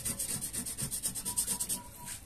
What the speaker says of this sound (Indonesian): kita amplas permukaannya di sini biar lebih bersih ya teman-teman